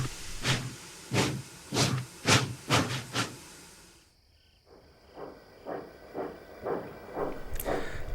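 A steam engine pushing a short train of ballast trucks and a flatbed of rails and sleepers, giving a run of loud rhythmic hissing chuffs, then a brief lull before softer, more distant puffs resume.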